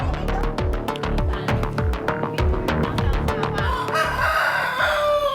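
A rooster crows repeatedly over a steady chorus of clucking chickens at a chicken coop, loud and close, with rhythmic pulses of cackling running throughout and no talk.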